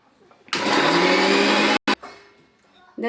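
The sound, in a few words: mixer grinder grinding onion, tomato and salt for chutney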